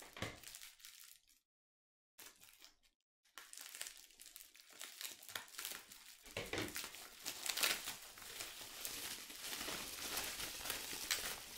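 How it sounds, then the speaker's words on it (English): A Rode microphone boom arm is unwrapped from its packaging up close. A few soft crinkles give way to near-silence, then the plastic is torn and crumpled more loudly and steadily for several seconds. "I'm gonna unwrap this boom arm."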